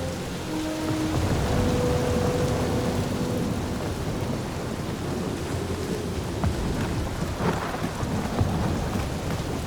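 Stormy weather in the video game Guardians of the Galaxy: steady rain and broad rumbling thunder fill the scene, with occasional sharper crackles, continuous and fairly loud with no talk.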